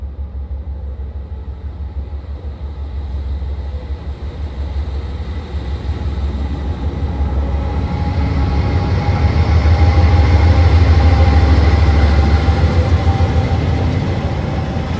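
An eastbound Norfolk Southern P60 freight train passing on East Court Street, heard as a steady, loud low rumble with rail roar that slowly swells toward the middle and stays heavy throughout, with no talk.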